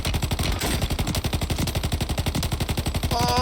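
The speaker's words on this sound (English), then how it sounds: "Shoot him in the face." Loud, rapid automatic gunfire from the Warzone video game rattles in one unbroken burst, with steady evenly spaced shots throughout.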